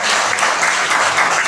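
An audience at a Karang Taruna youth organisation ceremony gives a burst of applause, dense steady clapping from many hands, loud and close throughout.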